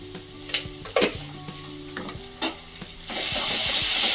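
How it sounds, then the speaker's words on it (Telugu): Onions fried with ginger garlic paste for an omelette curry are stirred in a hot pan, with utensil scrapes and taps over a low sizzle that swells into a loud, steady frying hiss near the end. "మంచిగా ఫ్రై అయిన ఉల్లిగడ్డలు ఇందులో మనం కొంచెం అల్లం వెల్లుల్లి పేస్ట్ వేసుకుందాం"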